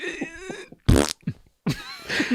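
A voice imitates a fart with one short, buzzy, raspberry-like blast, set between bursts of ordinary speech.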